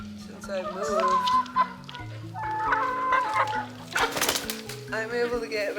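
Farm hens and a rooster call, crowing and clucking continuously and close by, a busy overlapping flock chatter with no one speaking.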